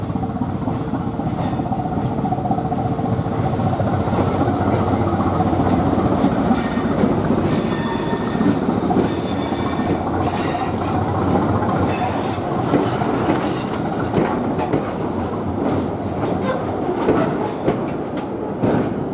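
A return train to Victor Harbour rolling into a station, loud and close, with continuous rumbling, rhythmic clickety-clack of wheels and intermittent high wheel squeals throughout, no talking.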